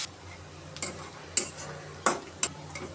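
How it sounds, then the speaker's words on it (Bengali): Chopped onions and green chilies fry lightly in oil in a pan, giving a quiet sizzle broken by several sharp spatula clicks and scrapes at irregular intervals. "এখন আমি পেঁয়াজ আর কাঁচামরিচটা একটু হালকা ভাজা ভাজা করে নেব।"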